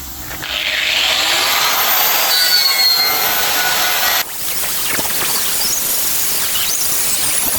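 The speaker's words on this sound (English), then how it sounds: "And then we give it a bit of an orbital sand." An orbital sander working over a vehicle bullbar, a loud steady whirring grind with a high whine, briefly cutting out and resuming at slightly lower level.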